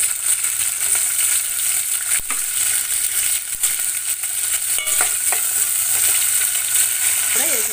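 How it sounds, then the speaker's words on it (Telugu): Green chillies frying in oil in a kadai, a dense, steady sizzle with crackles and a few sharp stirring clicks, heard close with no talking. "మనం కళాయి దగ్గర పచ్చిమిరకాయలు వేసుకుందాం"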